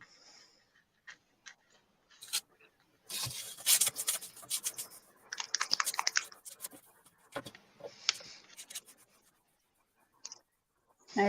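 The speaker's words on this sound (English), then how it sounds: "I roughen up the back. These are resin." Someone roughens the backs of small resin pieces, making quiet bursts of scratchy rubbing and sanding with short ticking taps between them.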